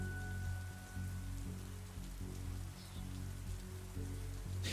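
Steady rain falls outside as background ambience for a tabletop fantasy role-play session, a continuous wash of drops pattering on a surface with a low rumbling bed, unbroken and fairly even throughout.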